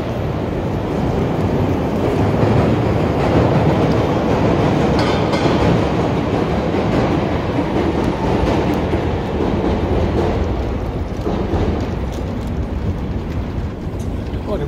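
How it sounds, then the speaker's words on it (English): A train rolls through downtown Chicago with a loud, continuous rumble and rattling wheel clatter that stays close and steady for the whole stretch. "I like those trains, the sight and the sound of the train"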